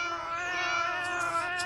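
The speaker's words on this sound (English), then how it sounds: "Ah, cats." A cat's drawn-out caterwauling meow, one sustained plaintive wail, close and fairly loud, with no voices.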